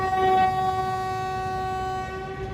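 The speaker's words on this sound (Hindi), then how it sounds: "ड्राइवर साहब ने रेडी टू स्टार्ट का विस्टल लगा दिया है" The Chenab Express locomotive sounds a ready-to-start whistle at Dinga station, a steady, sustained horn tone holding for about two seconds over low station rumble before fading slightly.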